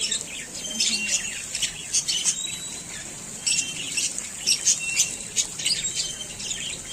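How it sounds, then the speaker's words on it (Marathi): A large flock of parrots and sparrows perched outdoors keeps up a busy chorus of harsh squawks and sharp chirps in quick overlapping bursts, fairly close and continuous. "इकडं पाठीमाग एक चिमण्या आहेत पोपट खूप सारे. तर कसे चाव चाव चाव चाव करायला लागले."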